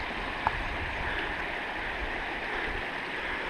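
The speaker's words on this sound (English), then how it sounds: "Okay, now we're walking alongside the creek." Clear creek water flowing beside a hiking trail in the Zion and Bryce area, a continuous soft rushing murmur with one tiny click early on and no speech.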